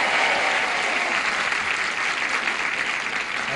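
Studio audience applause on the 1970s TV game show Match Game, a dense, steady burst of clapping that stays loud and close throughout with no talk over it.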